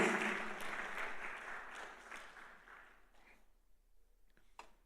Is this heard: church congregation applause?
yes